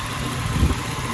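SAAB 900 T16S Ruby Edition engine at idle, a steady low rumble with slight vibration, fairly close and continuous, with no voices over it.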